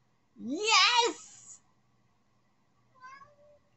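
A cat gives one loud, drawn-out wavering meow close by, then after a pause a shorter, fainter second meow.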